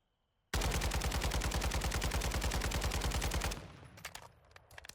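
A rapid, steady burst of automatic gunfire in Warzone 2.0 during a recoil test, loud and close, running about three seconds without pause before cutting off into a few scattered clicks and faint shots.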